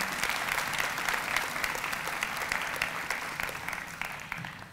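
An audience at a medical imaging program pinning ceremony claps steadily, a full, even patter of many hands that tapers slightly at the end.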